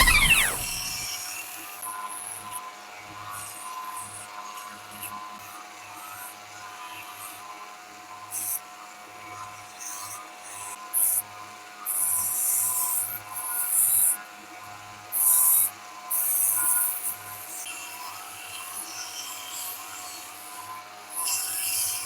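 A belt sander whines steadily while bursts of harsh, raspy grinding come and go as wood is pressed against it, growing more frequent toward the end.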